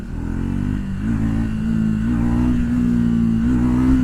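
A Triumph Speed 400 motorcycle engine revs hard and steadily in second gear during a wheelie, a loud, close, continuous drone that climbs gradually in pitch.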